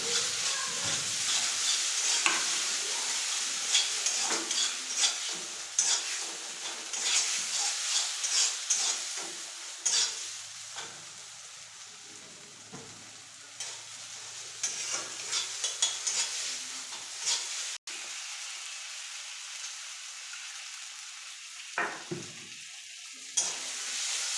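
Green chilies, tomato and ground cumin paste fry in a pan with a steady close sizzle, while a spoon stirs and scrapes at intervals over the long stretch. The hiss eases near the end, and there is no talk.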